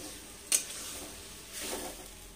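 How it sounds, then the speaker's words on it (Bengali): Spice paste stir-fried in oil in a pan for a Bengali bora ghugni breakfast: two soft spatula scrapes about a second apart over a faint, steady background hiss, with no talking. "দিয়ে মশলাটা যতক্ষণ না তেল না ছেড়ে আসবে ততক্ষণ মশলাটাকে কষতে হবে"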